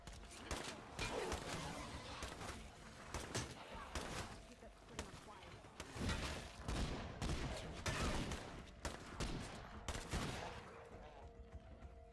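Companion characters fire guns together in the zombie survival video game State of Decay 2, giving a dense, continuous barrage of overlapping shots with irregular loud cracks throughout, and someone talking over it.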